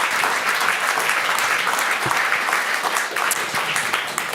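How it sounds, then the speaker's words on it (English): Audience applause fills a panel discussion on art education in the Netherlands, steady dense clapping throughout at constant loudness with no talk over it. "Can I have a warm applause for Nadia, Dattatreya and Jessica Kuhn?"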